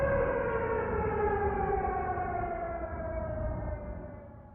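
Sirens from Avraamov's Symphony of Sirens wail in a sustained, loud, layered tone that slowly falls in pitch and fades slightly toward the end, with no voices.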